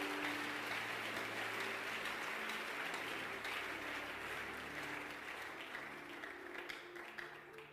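A church congregation applauds, a steady wash of clapping that slowly thins and tapers toward the end, with a faint murmur of voices underneath.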